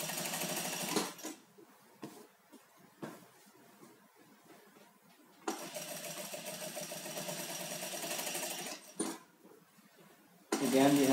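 Sewing machine stitching a sweatshirt seam with black thread at slow speed, running in steady whirring bursts separated by quiet pauses, close and moderately loud, with a voice talking between runs.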